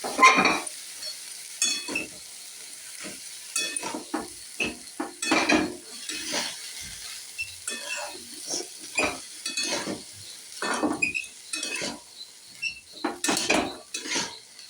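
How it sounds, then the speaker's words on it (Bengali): Chickpeas with turmeric are stirred in a pan, a spoon knocking and scraping against the metal in repeated irregular clatters over a faint sizzle. "এবার আমি এই ছোলাটা দিয়ে একটু নেড়ে নেব।"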